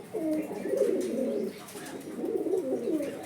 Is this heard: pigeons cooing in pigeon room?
yes